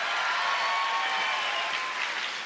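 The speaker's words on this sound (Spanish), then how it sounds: "el aplauso bien fuerte para Felipe" Loud, steady applause from a comedy festival audience fills the whole stretch, dense and unbroken with no voices over it, easing only slightly toward the end.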